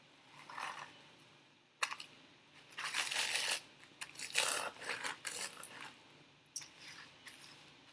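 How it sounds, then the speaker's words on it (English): A rolling pin presses and rolls over Cheerios sealed in a plastic bag, giving bursts of crinkling plastic and crunching cereal that come and go with the strokes, close by with no talking. "Pressing. Rolling out our"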